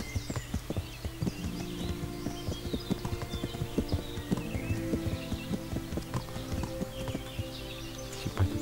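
Horses in the medieval video game Kingdom Come: Deliverance, with steady hooves clip-clopping at a walk, occasional snorts and a faint whinny over a low ambient bed, moderately close and continuous.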